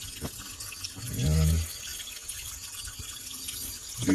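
Spring water running from a boxed outlet toward a creek, a steady gurgling flow with a brief low rumble, and a voice speaking a word over it.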